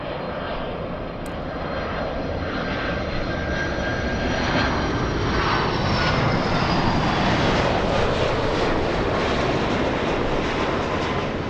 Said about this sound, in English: Delta's 501 flying in from Atlanta